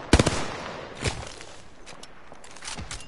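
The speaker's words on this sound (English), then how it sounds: "They're shooting at me." Apex Legends gunfire opens with a quick close burst of several shots, followed by scattered fainter single shots and distant pops.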